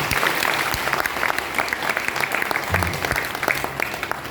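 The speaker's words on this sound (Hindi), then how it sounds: "जो सुनना चाहेगा वो ताली बजाए" An audience at a motivational success-story talk breaks into steady, dense clapping that fills the whole stretch at close range, with no one speaking over it.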